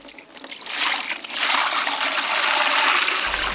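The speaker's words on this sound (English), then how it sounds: "she proceeds to pour out the sharp-smelling broth" Sharp-smelling fermented broth pours out in a close, continuous splashing stream, trickling at first and then gushing steadily.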